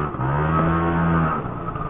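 A Ride Race 50 GT 50cc scooter engine drones steadily on the road, a loud, close, buzzing hum with a slight rise and fall in pitch, running alone without voices.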